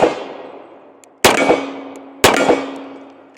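A Springfield TRP 1911 pistol fires at a target 30 yards out, two loud, sharp reports about a second apart, each trailing into a ringing decay, with no talking.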